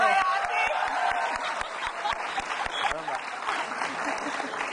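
Studio audience at an Indonesian television talk show breaking into applause, dense clapping that starts strong and carries on steadily, with a voice speaking over it.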